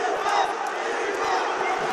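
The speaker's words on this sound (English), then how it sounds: "Met with rapturous applause from the Georgian crowd here." A large crowd at a Georgian mixed martial arts fight event roars and cheers in a dense, steady wash of voices, loud and sustained.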